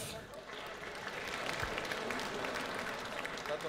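Crowd applause fills a bare-knuckle fight event at TOP DOG Prospect 15 in Podolsk, a steady dense clapping that runs throughout with a voice talking over it.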